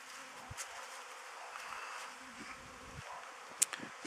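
Honey bees fly around an apiary in spring, giving a faint, soft buzzing with occasional louder passes close by and a few small clicks, with no talk.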